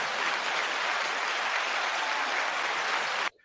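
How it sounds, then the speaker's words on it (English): Fairly quiet applause from an audience goes on evenly for about three seconds, then stops abruptly. "You get applause and everything."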